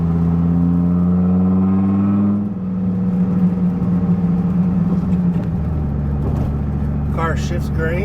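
A 1997 Dodge Viper GTS coupe driven on a damp road, with a deep engine note that rises, drops at a gear shift and settles into a steady drone, while someone talks over it.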